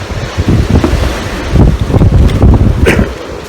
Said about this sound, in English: That's the wind blowing the camera over. You can see how blowy it is.